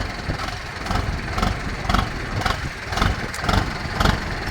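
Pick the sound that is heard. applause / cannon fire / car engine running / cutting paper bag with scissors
car engine running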